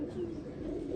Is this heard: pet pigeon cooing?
yes